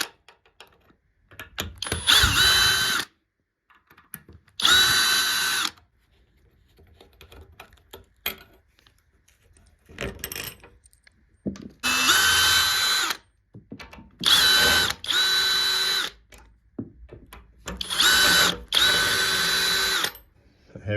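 A power drill fitted with an extension bit backs long screws out of a wall, several loud whirring bursts of a few seconds each separated by pauses with light handling noises.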